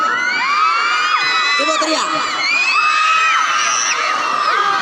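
Junior high school students shout together on request in a hall. Their loud, overlapping screams and whoops come in a sustained burst, with a few higher voices rising above the group.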